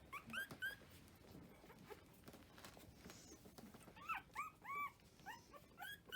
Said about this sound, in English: here we have puppies ready for feeding time